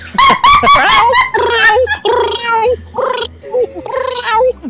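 A person imitates a horny cat in heat, making a run of loud, wavering, yowling meows in short bursts with brief gaps between them, close to the microphone.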